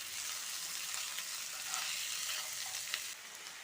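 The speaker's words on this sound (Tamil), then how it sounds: "நல்லா 1 நிமிஷம் போல் வதக்கி விட்டுறலாம்" Chopped tomatoes sauté in a hot pan for an egg kurma, giving a steady, close sizzle with a few soft stirring scrapes. It runs unbroken with no voices.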